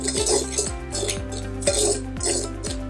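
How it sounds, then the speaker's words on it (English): Jowar pancake batter with oil and vanilla essence being stirred in a bowl, utensil clinking and scraping against the dish in a quick repeated rhythm, close up with a low steady hum underneath. "We're going to mix this together."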